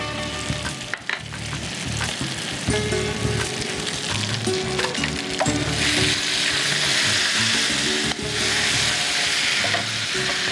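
Chicken and onions frying in a pan on a cooking show set, a dense continuous sizzle with busy stirring and clattering up close, rising to a brighter, louder hiss partway through.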